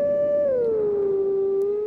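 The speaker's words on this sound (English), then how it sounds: "I gotta howl again" A single wolf howl from the video game Twilight Princess HD, one clear sustained tone that holds and then slides downward before leveling off, heard alone and close.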